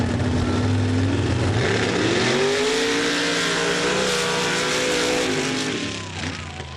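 Pro Stock mud trucks racing at a mud bog event in Laporte, Indiana: loud, sustained engine roar with a rising, revving pitch that swells and holds, then fades slightly at the end.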